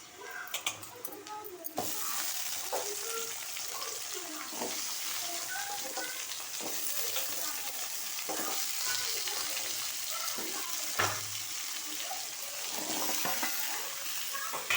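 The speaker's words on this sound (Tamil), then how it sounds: "இதை போட்டு நல்லா வதக்கி விடணும்" Pumpkin and snake gourd stir-fried in a pan, a steady sizzle with repeated scraping strokes of a spatula running throughout, close and continuous.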